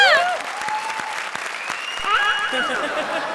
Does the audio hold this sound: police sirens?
no